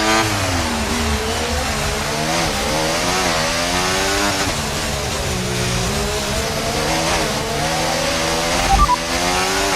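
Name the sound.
Mercedes F1 car engine accelerating in video game F1 24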